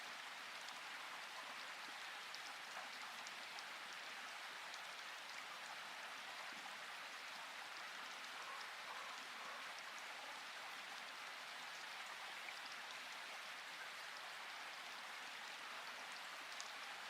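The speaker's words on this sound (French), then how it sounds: "Concentrez-vous sur le son de la pluie." Steady rain falls evenly and continuously, a soft hiss of countless drops on surfaces with no breaks, heard alone at a gentle, moderate level throughout.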